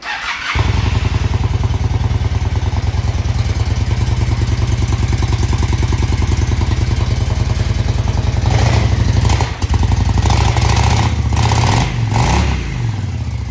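A used motorcycle engine ticks over in a fast, steady idle after a cold start, loud and close, with a few blips and clattering knocks near the end.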